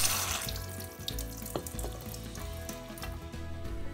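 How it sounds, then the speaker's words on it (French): Dried seaweed being rinsed quickly under a running kitchen tap, a steady close splash and trickle of water into a sink with small clatters, no voices. "on rince rapidement et on laisse égoutter un peu"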